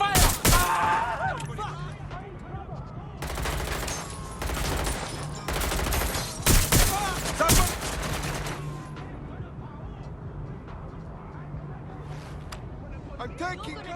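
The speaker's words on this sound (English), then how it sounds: "Shots fired!" Bursts of machine-gun fire rip through a Watch Dogs: Legion street fight, several loud volleys separated by brief pauses, with shouting voices mixed in.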